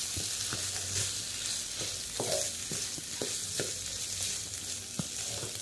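Chilli chicken frying in masala, stirred with a utensil that scrapes and knocks against the pan at irregular intervals over a continuous quiet sizzle, no one speaking.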